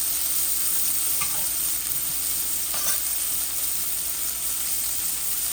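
Shrimp frying in hot oil for a fish fry, a steady, loud, dense sizzle and crackle heard up close, with a couple of faint clinks.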